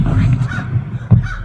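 Crow cawing, loud and close, with a couple of harsh hoarse calls within a second and a half.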